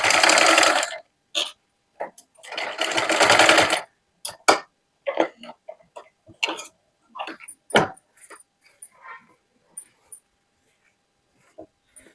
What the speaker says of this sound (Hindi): सिलाई को कंप्लीट कर लेते हैं।